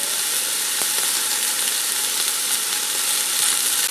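Chuck roast searing in avocado oil inside a Ninja Foodi gives off a steady, loud, dense sizzle that holds evenly throughout, with a few faint clicks and no voices.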